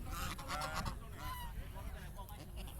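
Waterfowl gathered along a riverbank, a dense chorus of honking and quacking calls overlapping continuously, fairly close and steady.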